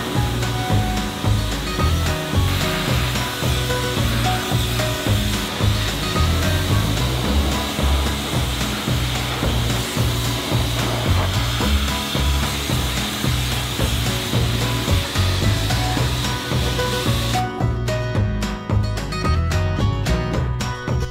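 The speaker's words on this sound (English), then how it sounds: "I just blew the hose right at it" A hose sprays water hard during a wash-up on a sheep-scanning job, making a loud, steady rushing hiss with a low pulsing throb that runs for the whole stretch.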